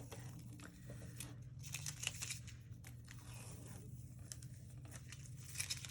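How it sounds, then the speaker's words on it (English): Masking tape peels off watercolor paper in slow, close, quiet tearing and crinkling strips, with soft rustles and brief pauses between pulls. "Let's take our tape off"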